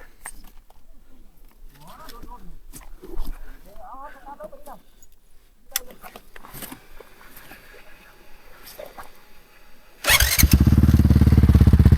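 An enduro motorcycle near Tad Leuk waterfall in Bolikhamxay, Laos, starts suddenly after voices talk nearby, its engine bursting into a loud, close, steady roar that holds to the end.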